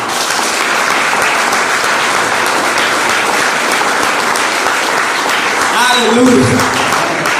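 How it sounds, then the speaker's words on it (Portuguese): A church congregation breaks into a sustained round of applause, dense and steady throughout, with a voice calling out briefly near the end. "Para vocês darem uma salva de palmas por você."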